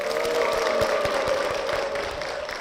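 A church congregation at Cheorwon Methodist Church applauds to welcome a deaconess forward, a dense, steady wash of clapping that holds for a few seconds over a low sustained tone.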